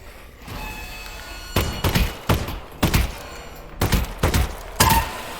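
Gunshots ring out in the VR game Half-Life: Alyx, a string of sharp, punchy shots fired in irregular clusters, close and loud over a faint background.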